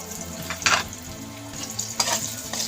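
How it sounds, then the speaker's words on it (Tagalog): Ginger sizzles and fries in coconut oil in a pan, a continuous crackling hiss with a few brighter bursts as it is stirred. "Medyo pa-fry natin kunti ang ating luya guys, no?"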